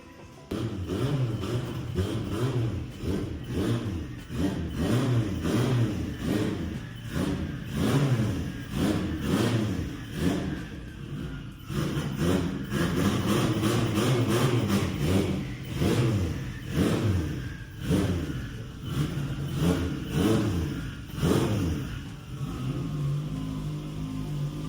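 A big-turbo ninth-generation car engine fires up for the first time and is blipped repeatedly, rough mid-pitched revs rising and falling in bursts between brief idling, close and loud, with no talking.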